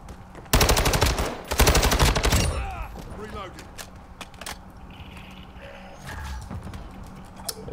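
Rapid automatic M4 rifle fire in Modern Warfare 2, a loud dense burst of close shots over roughly two seconds, then scattered quieter game clatter and distant shots.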